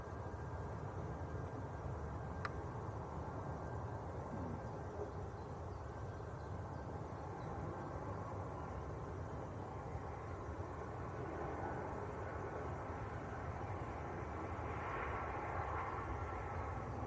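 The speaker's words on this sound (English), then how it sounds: "Ryanair from Vienna next to land." A Ryanair jet arriving from Vienna lands at Manchester Airport, heard as a steady, distant roar of engines and rushing air that holds for the whole stretch without speech.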